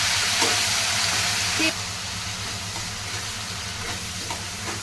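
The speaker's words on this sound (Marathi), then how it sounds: "तेलात छान असा कांदा भाजून घ्यायचा त्याचा कलर सोनेरी होईपर्यंत छान असा कांदा भाजून घ्यायचा आहे" Onion frying in hot oil with eight to ten curry leaves for hotel-style poori bhaji, a steady broadband sizzle with a few soft stirring knocks, close and continuous with no voices.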